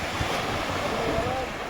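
Sea waves wash continuously onto Arnala beach near Virar, a steady broad surf roar mixed with wind buffeting the microphone.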